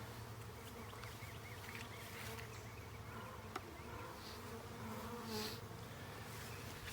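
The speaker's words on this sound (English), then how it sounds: "We're gonna leave it like that for a couple of hours just so the bees can work their way down into the hive." Honeybees from a package being installed into a hive hum in a steady, dense drone from start to finish, loud and close, with no voices over the buzzing.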